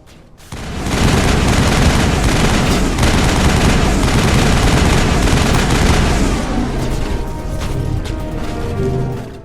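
Loud, sustained gunfire from the Mass Effect video game, a dense, continuous barrage of weapon fire lasting several seconds before easing into lighter, scattered shots with some electronic tones.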